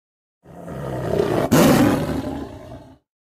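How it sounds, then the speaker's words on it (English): A tiger lets out a single loud, close, rasping roar lasting a few seconds, with a brief break midway. "tiger!"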